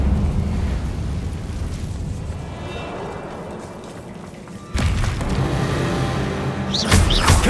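Confringo blasting-spell explosions in Hogwarts Legacy: a continuous low rumbling boom dies away, then a fresh sharp blast with crackling debris, followed by another burst near the end, loud and close.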